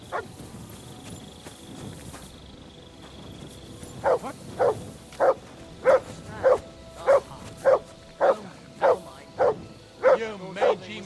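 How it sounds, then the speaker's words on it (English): A dog in Kingdom Come: Deliverance II barks repeatedly in an even rhythm, about a dozen sharp, evenly spaced woofs after a quiet lead-in, close and clear over low background ambience. "No one wants to hear your barking. Such a naughty dog."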